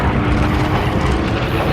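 An enemy World War II bomber roars overhead in a dense, loud engine drone as it banks sharply toward the aircraft carrier Enterprise on a suicidal collision course, the noise steady and close throughout.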